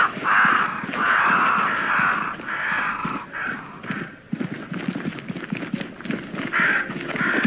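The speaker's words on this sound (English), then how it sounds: "Crows. They flock to that great tree up there." Crows cawing in the video game Banishers: Ghosts of New Eden, flocking around a great tree; repeated loud harsh calls in steady bursts over a rustling ambient backdrop, with no talk.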